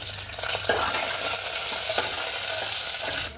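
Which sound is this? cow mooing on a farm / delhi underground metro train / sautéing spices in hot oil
sautéing spices in hot oil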